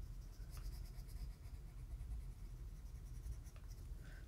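Colored pencil moving across paper at medium pressure, a steady soft scratchy stroking that continues without pause, fairly quiet and close, with no talking.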